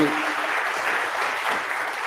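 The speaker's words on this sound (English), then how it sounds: "let's give our panelists another round of applause, please" A panel-discussion audience gives a round of applause, dense steady clapping filling the room at close range for the whole stretch.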